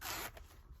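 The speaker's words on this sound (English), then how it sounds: "this is a really nice color zipper" A zipper on a pink planner pouch is pulled in one quick, close stroke that lasts about a third of a second, then trails off into quiet room tone.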